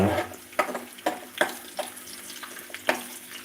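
Crushed garlic frying in a pan for puliyogare, a steady close sizzle broken by sharp, irregular clicks and scrapes as it is stirred.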